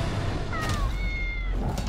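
Cat in a trailer for Night at the Museum: Secret of the Tomb: a single drawn-out, rising and falling meow, close and clear over a low background rumble, lasting about a second.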